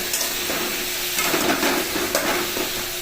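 Potatoes, onion and tomato frying together in a pan, a continuous close sizzle with soft scraping as the mix is stirred, heard on its own without voices.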